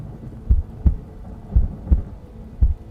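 A pounding heartbeat, paired low thumps repeating in a steady lub-dub rhythm, deep and muffled, heard alone over a faint hum.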